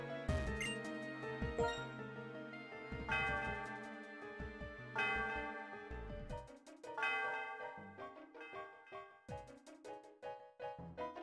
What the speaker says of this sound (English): The sound of the bell reverberates through the area.